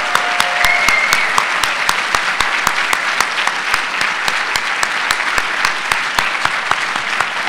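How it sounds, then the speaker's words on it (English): A large conference audience gives a big round of applause for keynote speaker Scott Kress, loud sustained clapping with a steady rhythmic beat of unison claps running through, a brief whistle early on. "How about another big round of applause for Scott Kress?"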